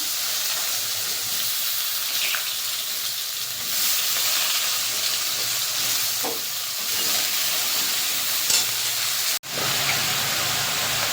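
Diced eggplant fries in hot oil with a nigella seed tempering, making a loud, steady hiss and sizzle with a few sharp spatters and a brief clunk near the end.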